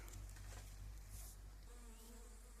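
A honey bee swarm hanging on an apple tree gives off a steady, faint buzzing hum that drones on without a break, slightly distant, with no voices heard.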